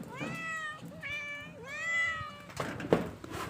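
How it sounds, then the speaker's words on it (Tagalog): Several cats meow close by, a string of clear drawn-out cries one after another, followed by a brief scuffle of movement. "Ayan sila madami dito po guys na mga pusa."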